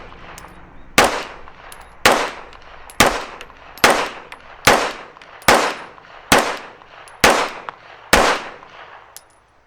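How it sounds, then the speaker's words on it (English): Nine sharp gunshots from a Rock Island Tac Ultra pistol fired at a target on a range, spaced about a second apart in a steady rhythm, each loud, near and followed by a short echoing decay, with no talk. "Going to shoot at the bottom right target"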